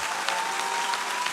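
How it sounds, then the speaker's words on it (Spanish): A church congregation applauds steadily throughout, a dense and even wash of many hands clapping at once, with no one speaking over it. "Vamos, no me deje con aplauso de golf,"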